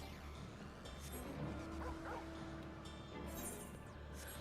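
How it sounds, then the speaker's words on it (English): Dogs bark and yip faintly in the background over a steady hum, with a few short bursts scattered across a few seconds. "Just dogs. Dogs being dogs."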